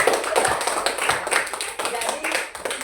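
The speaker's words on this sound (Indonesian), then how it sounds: "tepuk tangan dulu yang meriah" A group claps in a lively burst of applause, many hands together, with voices talking over it.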